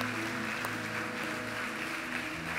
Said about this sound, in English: Give these guys a clap as they stand.